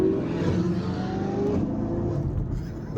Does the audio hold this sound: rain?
no